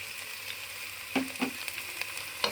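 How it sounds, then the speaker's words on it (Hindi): Onions hiss in lightly heated oil in a home kitchen for Punjabi kadhi, a steady low sizzle punctuated by a few sharper crackles and spatula clicks, with no talking. "तेल को मैंने हल्का सा गर्म कर लिया, इसमें प्याज डालूंगी"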